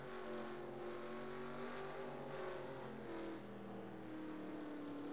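A race car engine from a racing video game drones on an onboard lap, its sustained tone rising and falling through gear changes, steady and fairly quiet with no talk over it.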